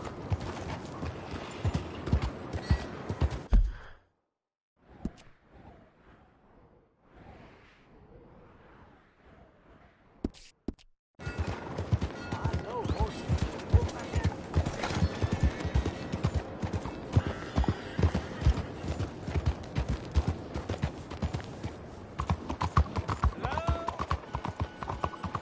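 Horse hooves clip-clop steadily in Red Dead Redemption 2, a rhythmic run of clops that stops for a quiet stretch with a faint whinny, then resumes loud and continuous.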